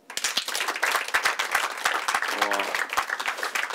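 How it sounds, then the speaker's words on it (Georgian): An audience at a stand-up comedy show claps loudly and continuously for a few seconds, a dense steady patter of hands filling the room, with a brief voice or whistle rising through it midway. "ტაში დაუკრათ"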